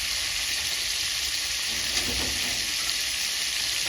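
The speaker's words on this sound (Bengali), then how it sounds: "তো মাংসটা আমি ভালোভাবে এবার ভেজে নেব।" Chicken meat frying in a pan for chicken biryani, a steady, loud sizzling hiss that holds evenly throughout with no talk.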